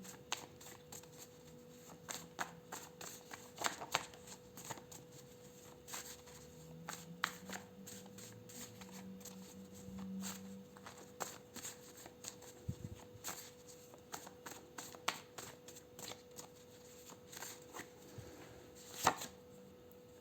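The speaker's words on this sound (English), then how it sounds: "I will pull some help and lifestyle cards for you" Tarot-style cards are shuffled close by in a quiet room, giving soft repeated riffles and slaps in irregular bursts over a faint steady hum.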